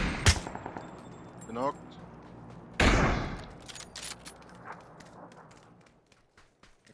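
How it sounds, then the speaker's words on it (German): Gunfire in the video game PUBG: two sharp, loud shots ring out several seconds apart, each followed by a short echoing tail, with a few fainter clicks and thuds around them and a player speaking briefly. "Der hat meinen Helm abgeschossen"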